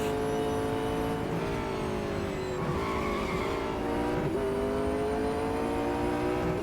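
McLaren 650S GT3 race car engine in the Real Racing 3 game on iPad, a loud continuous high-revving drone with rising and falling pitch through gear shifts, plus brief tire squeal, without speech.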